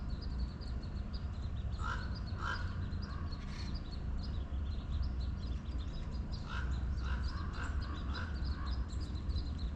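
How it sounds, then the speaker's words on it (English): Several crows caw in short bursts at a moderate distance over steady outdoor background noise at the Grand Canyon, Arizona, with no talking. "The crows are having conversation."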